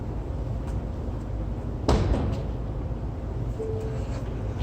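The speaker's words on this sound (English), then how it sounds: "if I walk up and open the door" A door on a 2021 Ford F-250 Super Duty XLT plow truck being opened, a single short thunk of the latch and door partway through, nearby over a steady idling hum.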